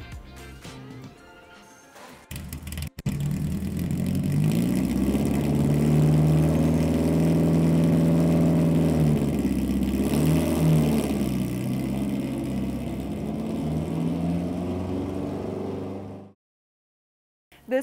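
A 1967 Lotus Elan right-hand drive fixed head coupe with Weber carburettors revs up loudly after a brief start, holding a strong, throaty engine note with rising and falling revs for about thirteen seconds before cutting off.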